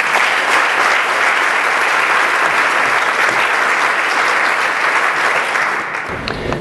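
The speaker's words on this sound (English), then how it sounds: "please give yourself a round of applause" Sustained audience applause at a United Way 2011 campaign event, a dense, steady wash of many hands clapping that holds loud throughout and thins slightly near the end.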